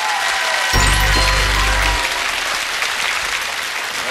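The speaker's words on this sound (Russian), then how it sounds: "Эти аплодисменты вам!" Loud, steady applause from a game show studio audience fills the whole stretch, with a brief low musical tone sounding underneath near the start.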